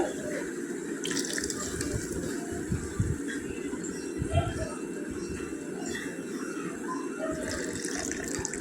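Soaked tamarind water is poured into a cooking pot, a continuous watery splash and trickle lasting several seconds with someone talking over it.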